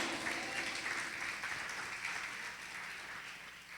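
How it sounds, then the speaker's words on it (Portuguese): Congregation clapping inside a church, a steady wash of hand claps from many people that holds fairly even, then eases off slightly toward the end, with no one speaking over it. "Aplauda o nome do Senhor."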